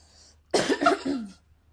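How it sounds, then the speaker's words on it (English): A single close cough, a short burst of two or three harsh pulses, in an otherwise quiet room. "I'm just gonna cough just one sec"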